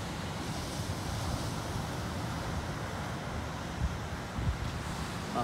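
Ocean waves break at the Irago surf beach in the morning, a steady rushing wash mixed with wind noise, with a couple of slightly louder surges near the end.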